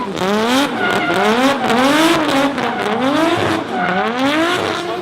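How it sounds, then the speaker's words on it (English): A drift race car with a Toyota 2JZ engine screams loud and close, revving up and down in repeated rising sweeps, with faint tire squeal mixed in. "Hakaraya is looking forward to competing a full D1NZ season with a Toyota 2JZ engine package under the hood."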